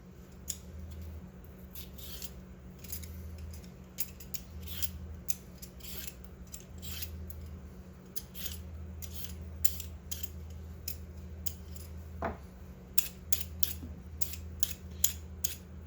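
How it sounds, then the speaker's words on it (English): A vegetable peeler scrapes along a carrot in quick repeated strokes, close and fairly quiet, over a low steady kitchen hum, with no talk. "I'm going to run the peeler down the length of the carrot"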